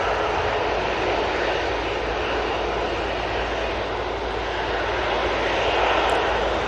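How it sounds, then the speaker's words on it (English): Aer Lingus airliner touching down at Manchester Airport, its broad steady engine roar filling the air with a sustained, fairly loud rumble and hiss, no voices over it. "I know the Aer Lingus has just touched down, you can hear it"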